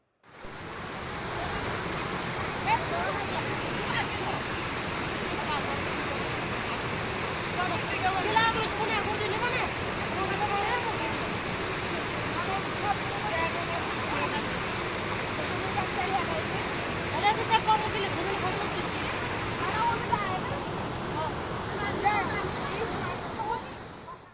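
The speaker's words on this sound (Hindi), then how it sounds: "किस तरह से बरसाती नदी पार करके ये बच्चे स्कूल जाने की कोशिश कर रहे हैं" A swollen monsoon river in Chamoli, Uttarakhand, which schoolchildren are crossing, makes a continuous broad rushing roar of water at steady loudness, with indistinct voices faintly mixed in.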